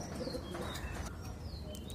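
A pigeon back home after straying, heard with soft bird calls and light chirps over a steady background hum, brief and fairly close with no talking.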